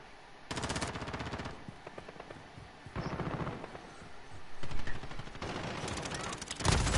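Automatic gunfire in Call of Duty Modern Warfare, with sustained bursts of machine-gun fire repeating in close, loud volleys and short gaps between them, while players talk faintly underneath.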